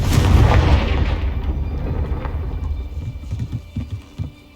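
A Confringo fire spell explodes in the video game Hogwarts Legacy: a loud, booming blast at the start that rolls off into a rumbling decay, followed by scattered smaller thuds and crackles.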